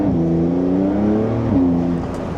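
Porsche 911 accelerating hard in sport mode with the sport exhaust system open, a loud rising engine note with harmonic layers, a brief dip like a gear change, then climbing again, heard close with windows cracked.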